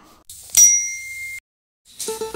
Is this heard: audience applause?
no